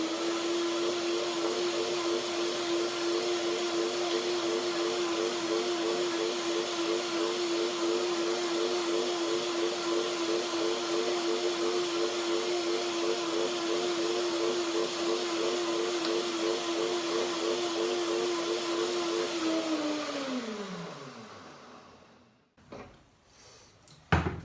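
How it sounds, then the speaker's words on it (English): A blender whirs loudly and steadily for about twenty seconds blending a creamy macadamia and chive dressing, then its motor winds down and stops, followed by a couple of faint clunks. "So I will just blend that now a second time"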